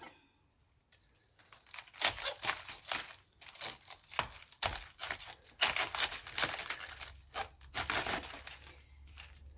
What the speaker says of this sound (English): I'm going to carefully cut out the core